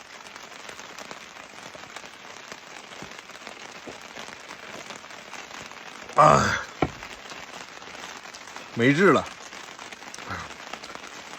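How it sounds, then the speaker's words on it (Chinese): Steady rain falls outside during a quiet night meal at a wild fishing camp on the Ussuri, a continuous soft patter with a few brief louder bursts and a man's short spoken remark. "再听着这个外边的雨声"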